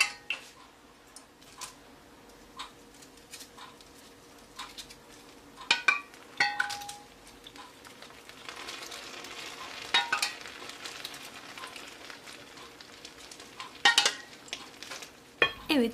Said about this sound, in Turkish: siz de duyduğunuz gibi şerbetimiz tatlımızla buluştu arkadaşlar, baklavamızla